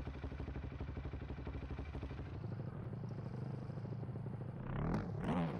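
A Husqvarna motocross bike engine in a racing video game, a buzzing, revving drone that holds steady, then rises and falls in pitch toward the end.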